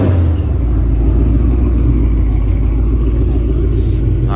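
A wide-body Ford Mustang passes with a steady, loud low engine rumble that holds throughout, no voices over it.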